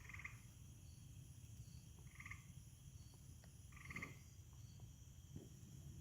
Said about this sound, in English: That might be a gray tree frog making that noise.